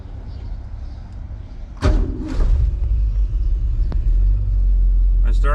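A 1966 Ford Mustang with Sniper EFI doing a hot start: a sharp burst of cranking and ignition catches partway through, then settles into a steady, low, rumbling idle close by.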